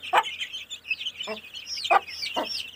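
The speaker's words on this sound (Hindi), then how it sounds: "ये बच्चों को चुगा रही हैं दाना" A hen clucks softly while feeding her chicks grain near a fodder pile for buffaloes in a rural yard. Four short clucks come at uneven intervals over light chirping, with no talk.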